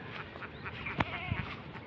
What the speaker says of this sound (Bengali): এই রোদের মধ্যে আমাদের ছাগলটা বাধা আছে